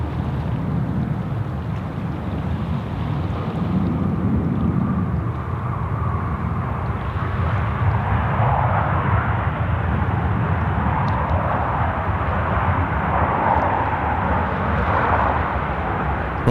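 Boeing 717 airliner taking off at Sydney Airport, a loud, continuous low engine roar with broadband rumble and wind buffeting, swelling gradually across the clip without speech.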